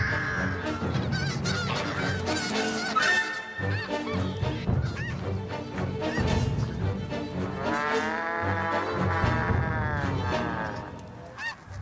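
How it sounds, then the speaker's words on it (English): An enraged goose honks loudly and persistently at close range, harsh repeated calls running almost without pause over several seconds, some blaring and drawn out. "An enraged goose has to be taken seriously. She can inflict a nasty bite."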